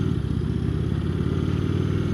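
An Indian Chieftain motorcycle pulls away in first gear with a deep, steady engine rumble, close and even throughout the short stretch, with no voices.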